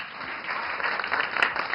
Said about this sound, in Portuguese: Eu quero aplausos.